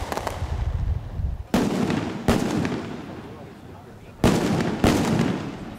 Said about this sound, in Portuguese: Rojões e fogos foram soltos durante a manifestação que fechou as duas pistas da Ponte da Passagem em Vitória